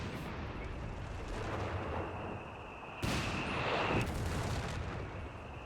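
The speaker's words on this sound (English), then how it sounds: "Barrage is absolutely everywhere." Artillery barrage in the video game Company of Heroes 3, a dense continuous rumble of distant explosions and shelling, swelling louder with a heavier blast midway, with no voices.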